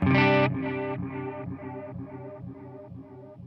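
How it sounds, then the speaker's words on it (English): A distorted guitar chord rings out, then repeats as delayed echoes every half second, each softer and darker than the last. "This is the delay I use for swell."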